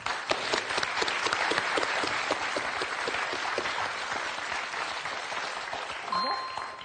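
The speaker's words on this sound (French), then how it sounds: "Applaudissements" Studio audience applause on a French TV quiz show, dense rapid clapping from many people, steady and fairly loud, with a short chime near the end.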